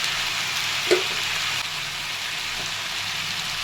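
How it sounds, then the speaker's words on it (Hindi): Onion and tomato frying with salt and spices in a pan for a jackfruit curry, a steady close sizzle with one brief stir clink. "अच्छी तरह से मिक्स करेंगे, मिलाएंगे, तो भूनेंगे।"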